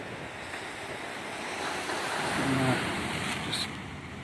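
Ocean waves break and wash against an eroding coastal hillside, a loud continuous roar that swells and recedes, with wind buffeting the microphone.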